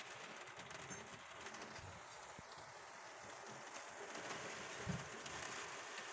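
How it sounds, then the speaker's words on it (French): Heavy rain falls during a weak thunderstorm with hail in Villers-Bocage, a steady dense hiss throughout with a few faint low knocks, distant and quiet, with no talking. "Putain, c'est de la forte pluie là."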